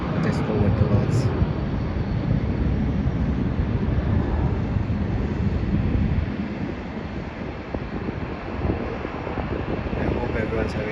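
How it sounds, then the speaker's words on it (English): A Virgin Australia Boeing 737 takes off from Melbourne Airport for Brisbane, a steady broad roar heard from a distance with heavy wind buffeting the microphone throughout, easing slightly toward the end. "So it looks like this flight is taking off now, and that is a Virgin Australia Boeing 737 going to Brisbane."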